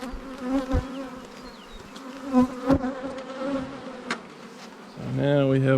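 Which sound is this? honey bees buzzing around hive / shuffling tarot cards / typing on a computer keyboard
honey bees buzzing around hive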